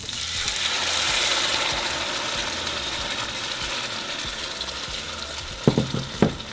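Chicken browns in a pan as sauce goes in, a steady sizzling hiss with a few clinks of utensils toward the end.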